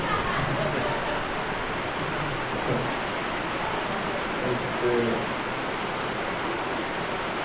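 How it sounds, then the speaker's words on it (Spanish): Heavy rain comes down as a steady, dense, loud hiss that fills the whole clip without letting up. "Tuvimos que hacer una pausa para ver si bajaba la intensidad de la lluvia."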